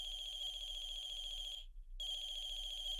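Phone ringing near a parked car in the horror game The Closing Shift, a steady electronic ring tone that cuts out briefly and then resumes, sounding alone without any talk.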